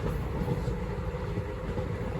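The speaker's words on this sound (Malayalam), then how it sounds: "ട്രെയിൻ നാഗർകോവിലേക്ക് അടുക്കുകയാണ്" A train running between Aralvaimozhi and Nagercoil, a continuous low rumble and rattle of rolling wheels heard from on board, steady and fairly loud throughout.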